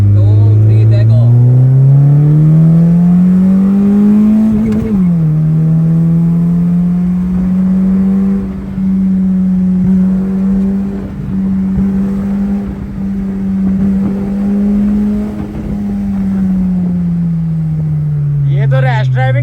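Car engine revved hard on a test drive after wheel balancing, a loud sustained drone climbing, dipping with a gear change, then holding high before easing off, with voices faintly underneath.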